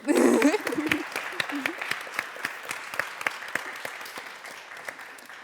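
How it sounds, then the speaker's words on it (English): A crowd claps enthusiastically, starting loud and dense with a brief cheer, then thinning into scattered individual claps that fade out. "Yeah, we could applaud."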